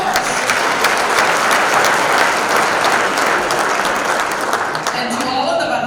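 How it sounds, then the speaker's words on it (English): A large audience in an awards ceremony hall gives the orchestra sustained, dense applause that stays loud and even throughout, with faint voices mixed in. "let's give them a round of applause"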